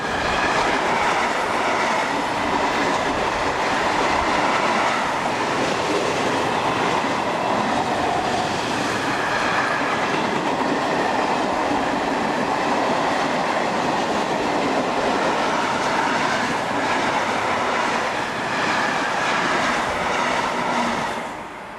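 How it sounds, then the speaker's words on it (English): An ÖBB class 1042 electric locomotive hauls a freight train from Hungary through Parndorf, a steady loud rolling roar of wagons with rhythmic wheel clatter sustained throughout and no talk. "1042-007 heads through Parndorf on the 15th of May 2003 with a train from Hungary"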